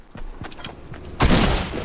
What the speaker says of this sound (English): When does a shotgun blast do that?